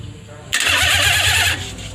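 A Kia Carnival petrol engine starting after an overhaul, a short starter crank followed by a loud catch into a rough, rumbling idle, heard close up.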